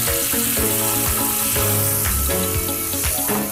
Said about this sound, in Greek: Μπορούμε να ρίξουμε τώρα την κρέμα.